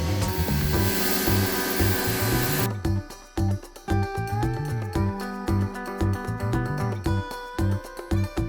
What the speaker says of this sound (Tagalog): Sprayan din natin dito sa likod yung condenser coil.